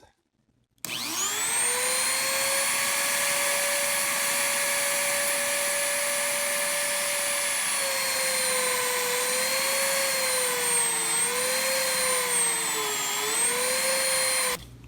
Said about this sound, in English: use my drill like this